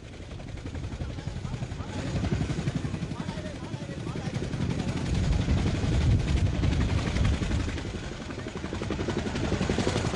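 A crowded military helicopter evacuating refugees and wounded soldiers in 1972 wartime Vietnam, heavy rotor thumping that swells and stays loud throughout, with a voice faintly mixed in.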